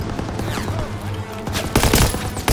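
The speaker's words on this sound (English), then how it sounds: "You gotta suppress the machine gun!" Machine gun fire in Call of Duty WWII during a battle on Hill 493: dense bursts of rapid shots and booming gunfire, loud and close, building to heavier volleys in the second half.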